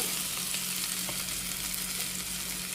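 Onions with turmeric and ginger-garlic paste frying in a pan for a chicken mushroom curry, a steady dense sizzle that stays loud and even throughout, with no talking.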